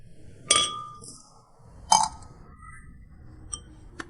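Glasses clink together in a toast, two bright sharp clinks followed by a fainter third, set against a quiet background with some soft noise between them.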